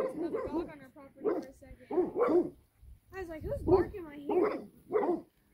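Several dogs, including a Cane Corso, bark back and forth in uneven bursts mixed with yips and whimpers, fairly close, while people talk over them.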